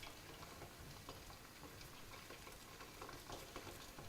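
Tomato paste and cubed food sizzle and crackle steadily in a pot, a soft continuous frying hiss with tiny pops, fairly quiet and with no voices.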